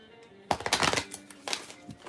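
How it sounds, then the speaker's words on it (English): A Doreen Virtue tarot card deck is shuffled close by in two quick bursts, a dense riffling flutter of cards followed by a shorter second riffle, with no talk over it. "It feels a little chunky sometimes when I'm shuffling it"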